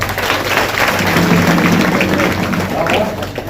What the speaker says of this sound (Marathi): त्या सगळ्यांनी एकदा जोरदार टाळी वाजवा